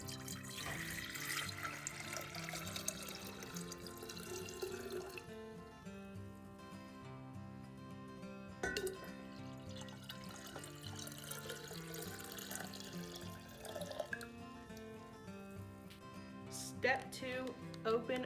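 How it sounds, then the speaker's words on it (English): Tap water runs steadily into a pitcher, about eight cups' worth, while making pink lemonade. The flow is continuous and fairly faint beneath background music. "get 8 cups of water"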